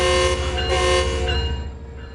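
A train running in the Train Sim World 5 game on the San Bernardino Line, a steady loud rumble with sustained horn-like tones that fade toward the end.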